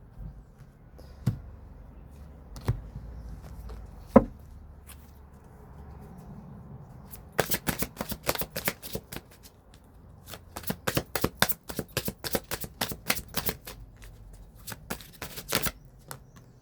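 Oracle cards shuffled by hand during a French tarot-style reading: a few soft isolated taps at first, then fast bursts of crisp riffling flicks in two long runs, close and clear with no talking.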